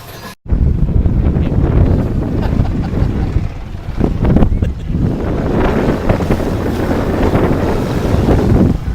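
A sailboat under way off Newport in November, with strong wind buffeting the microphone and rushing water around the hull, loud and continuous after an abrupt start.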